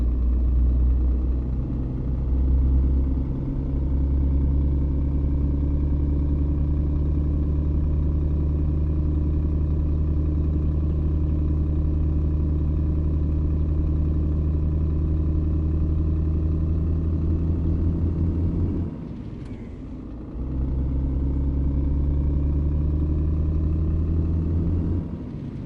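A heavy truck engine in the Truck Simulator game drones steadily as it pulls uphill, a loud, continuous low rumble with a brief dip near the end before the engine note resumes.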